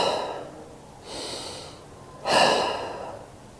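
Deep, slow breathing during a morning yoga flow: two full audible breaths, each a long airy inhale or exhale swelling then fading, the second louder and closer, with no talking.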